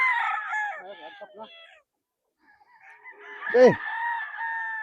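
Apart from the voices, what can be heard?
gamefowl roosters crowing on a game farm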